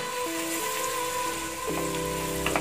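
Garlic frying in a pan and being stirred, a steady loud sizzle with occasional scraping of the spatula, close up with no talking.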